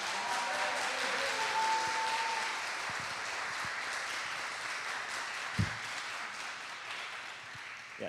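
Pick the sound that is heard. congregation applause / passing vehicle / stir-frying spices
congregation applause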